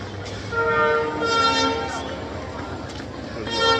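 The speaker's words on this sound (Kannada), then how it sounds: "ಇದು ಹೋಗ್ತಾ ಟ್ರೈನ್ ಹೋಗ್ತಿದೆ" A train rumbles by Nanjangud railway station with a steady low roar as a horn sounds in long tones; people talk nearby over the noise.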